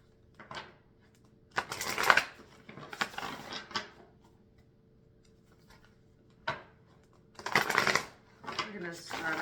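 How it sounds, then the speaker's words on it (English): Oracle cards from an animal spirit deck shuffled by hand in several separate bursts of papery riffling and rubbing, fairly close and moderately loud, with quiet pauses between bursts. "So if you want to watch the shuffling, you can do that."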